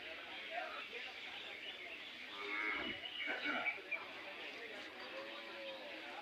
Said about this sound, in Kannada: ನೋಡಿ, ಈಗಾಗಲೇ ದನಗಳು ಸೇರಿದ್ದಾವೆ